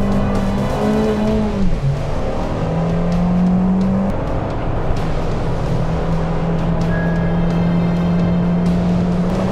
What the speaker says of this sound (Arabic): تجربتنا بالبداية رح تكون بالفيات أبرز، رح ناخدكم بتجربة على الحلبة هلا